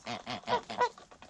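Several geese honk close by in a rapid series of about six nasal calls, some overlapping, as a flock gathers around feed.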